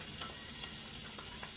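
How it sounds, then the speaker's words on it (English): Steady, close hiss and crackle of beans sizzling in a hot pan, with soft scraping stirs now and then. "It's hot enough because it's starting to sizzle."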